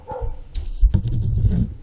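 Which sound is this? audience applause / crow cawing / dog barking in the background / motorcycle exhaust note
dog barking in the background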